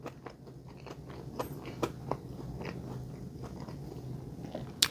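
Crispy A&W fries are bitten and chewed up close, with repeated crunchy snaps and softer mastication over a steady low hum. A sharp crunch comes near the end, and nobody talks.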